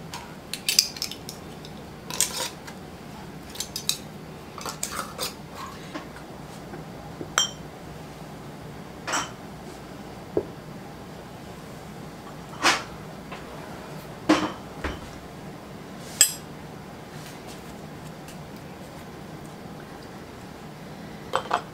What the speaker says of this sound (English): I'm going to get my lids on these first ones and get them into the canner